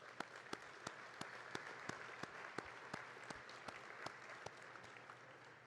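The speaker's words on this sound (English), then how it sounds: "let's give them a round of applause" Faint, distant audience applause at a conference center, with sharp individual claps in an uneven rhythm standing out over a continuous clapping wash.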